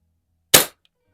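A single sharp pellet air rifle shot fired through a mounted scope while plinking at silhouettes: one close, crisp crack with a quick decay, then near silence.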